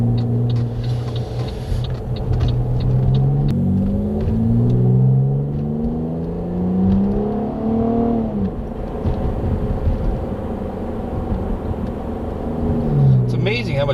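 A Pontiac G8 with a V6 engine idles and revs nearby, a steady low rumble rising and falling in pitch over about fourteen seconds.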